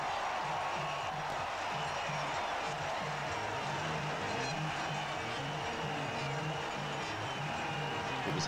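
A distant cricket crowd at a West Indies versus England Test match in Antigua, 1986, keeps up a steady murmur and cheering for Desmond Haynes' century, a continuous washy roar without distinct peaks.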